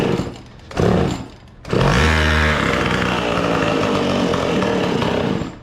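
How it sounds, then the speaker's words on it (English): A small mini bike engine, just fitted with a cleaned spark plug, sputters a couple of times and then catches, settling into a loud, steady, rasping idle close by with no talking. "it'll start, but you give it more than half throttle, it bogs"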